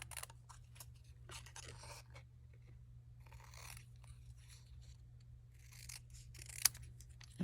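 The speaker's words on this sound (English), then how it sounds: "And then we're just going to trim this out" Scissors snip through a stamped paper card piece, a faint series of small crisp cuts over a steady low hum, close and quiet with no talking.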